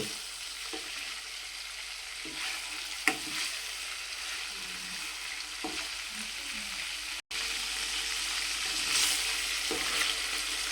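Salted fish frying in a pan gives a steady, dense sizzle with occasional stirring scrapes and small pops, close and continuous throughout with no talk.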